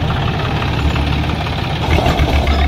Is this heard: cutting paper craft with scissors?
no